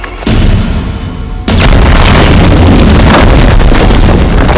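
Detonated charge in Uncharted 4 going off with a sudden massive boom after a brief rumble, then a sustained loud roar of blast and debris filling the rest of the moment.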